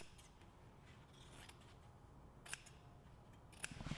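Scissors snip through pool table cloth at a corner pocket, making two cuts; faint rubbing and fabric handling under a steady low background, with sharper snips near the end.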